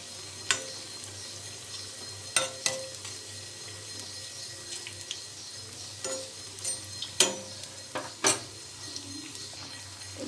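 Eggplant slices fry slowly in oil over low heat under a steady, faint sizzle, with scattered clinks and scrapes as the pieces are turned over in the pan.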